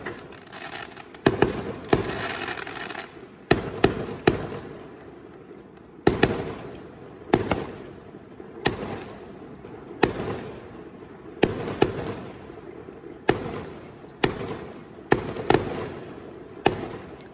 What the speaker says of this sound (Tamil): இப்படித்தான் வெடி கொளுத்தி கொண்டே இருக்கினோம்